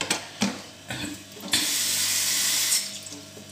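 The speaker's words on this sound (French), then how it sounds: "À ce stade, vous pouvez mettre un peu d'eau pour que votre viande décongèle un peu plus rapidement" Tap water pours steadily into a pot of meat being thawed for frying, a close, continuous rush that starts after a few light clinks and handling knocks, then eases off near the end.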